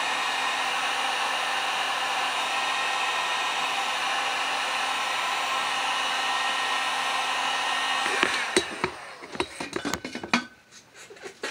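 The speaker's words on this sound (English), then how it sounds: "I'm going to take the heat gun. I'm going to dry these flowers." A heat gun blows a loud, steady rushing roar while drying painted flowers on pottery, close and continuous, then shuts off near the end, leaving a few light clinks and knocks.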